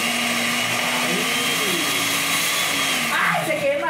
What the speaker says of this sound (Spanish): vamos a utilizar una licuadora marca Chicle Mambo